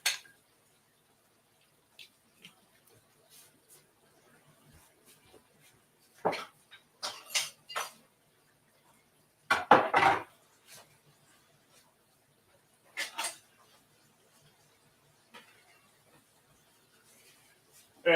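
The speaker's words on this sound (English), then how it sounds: "Get this pan out of the way." Metal pans and utensils clinking and scraping on a wood stove during wok cooking, scattered sharp clanks and knocks separated by quiet gaps, with one louder, longer scrape near the middle.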